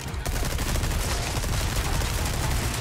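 Rapid, sustained gunfire in the video game Resident Evil 4 (Separate Ways DLC) crackles continuously and loudly, dense bursts like automatic weapons blending into a steady barrage with no pauses.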